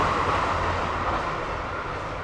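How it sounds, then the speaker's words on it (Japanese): A limited express train bound for Sapporo rushes past near a station in Hokkaido, a loud continuous rumbling roar of wheels and cars that holds steady, no talk. "あれは今から大急ぎ札幌へ帰る最終の特急列車です。"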